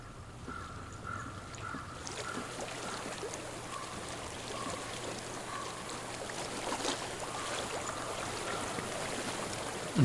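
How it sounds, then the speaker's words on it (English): Flowing stream water runs steadily in Hellblade: Senua's Sacrifice, a constant gentle wash with faint tonal calls above it and a low hum beneath, no talk. "I hear water. Go to it."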